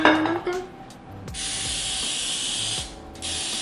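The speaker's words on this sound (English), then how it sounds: "spray our dish, which is a 9x9 clear cooking dish, with cooking spray" An aerosol cooking spray hisses into a 9x9 clear glass baking dish in a long, steady burst, then stops briefly before a second, shorter spray, after a few light clicks at the start.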